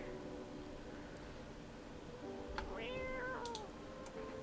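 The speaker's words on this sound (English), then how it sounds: "Hey, kitty." In the video game No I'm Not A Human, a cat lets out a single short, rising-and-falling meow midway through, faint over a soft hiss of background ambience.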